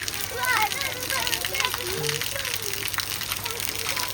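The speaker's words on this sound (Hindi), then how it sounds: "अभी पानी गिर रहा है" Water pours down steadily as a child bathes, a continuous gushing wash at home, with children's voices chattering and calling over it.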